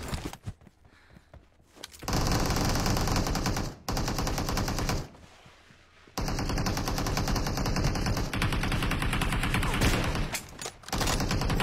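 Bursts of AKM rifle fire and M24 sniper shots in an online shooter game, loud close volleys broken by short quiet gaps, with several sustained rattling runs.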